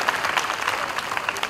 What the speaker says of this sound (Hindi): ताली तो बजा दो भाई.